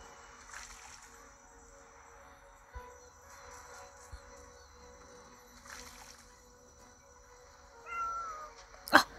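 A cat meows in the video game Stray Cat Doors 3, with several soft, faint mews spread across a quiet game soundscape and a louder sharp click near the end.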